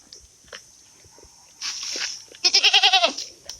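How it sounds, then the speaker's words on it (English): Goats on a small farm in the Philippines during the dry season give a loud, close, quavering bleat near the end, a rapid wobbling cry that follows quieter shuffling and a brief rustling burst. "The male goat that we bought last time, he is not so nice."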